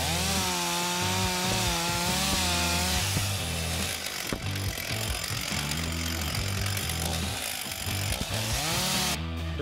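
A chainsaw cuts into a conventional flat roof for vertical ventilation, its engine loud and close, revving and bogging down in long strained bursts as it bites through the roof.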